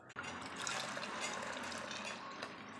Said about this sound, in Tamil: இப்போ அதில் இருந்த தண்ணியை ஊற்றிக்கலாம்.